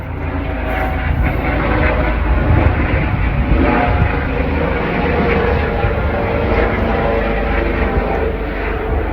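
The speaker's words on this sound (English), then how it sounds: "Helicopter." A helicopter passes overhead above an outdoor garden, a loud, steady low rotor and engine drone that holds throughout without a break, with no talking.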